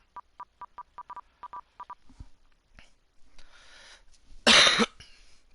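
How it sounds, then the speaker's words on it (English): A single sharp, loud cough bursts out near the end, after a series of evenly spaced telephone-style keypad beeps and a stretch of quiet background hiss. "sorry if I cough"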